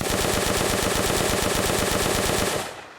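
Full-auto gunfire from a weapon in an Unreal Engine zombies video game: a dense, rapid, steady stream of loud shots with no pauses, stopping abruptly near the end and leaving a brief fading tail.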